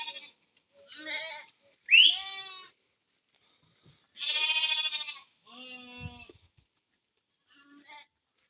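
Sheep and twin lambs bleat at an outdoor livestock market in Berde, giving several separate, fairly close calls of varying pitch between short quiet gaps.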